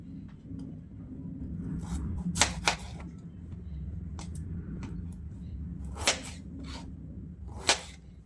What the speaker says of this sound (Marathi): बटाटा कापून घेऊयात आपण